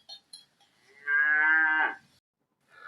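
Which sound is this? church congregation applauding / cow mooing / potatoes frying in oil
cow mooing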